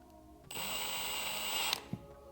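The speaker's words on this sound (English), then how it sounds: "I'm probably just going to drill a hole here in the center." A power drill boring a hole in a plastic lid whirs steadily at high pitch for over a second, then stops, followed by a couple of light clicks and knocks.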